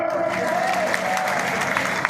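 A crowd at a political rally in Guna, addressed by Chief Minister Mohan Yadav, claps in a short, steady burst of many hands, fairly close and loud.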